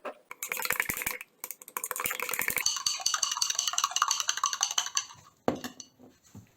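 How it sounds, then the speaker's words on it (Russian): A spoon clinks and scrapes steadily against the inside of a glass jar while dissolving gelatin in water, quick rattling stirring strokes close up, ending with a couple of sharper taps. "Хорошо перемешиваю, пока желатин полностью не растворится."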